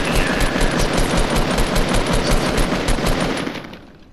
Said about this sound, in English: All I just hear is your gunshots.